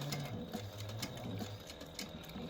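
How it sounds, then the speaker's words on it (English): A sewing machine stitches accordion card pockets in a quick, rhythmic run of needle strokes, close up and busy, with short breaks between the bursts of stitching. "And then I'm going to sew down to that next dot, and then do 3 stitches backwards and tack my stitch."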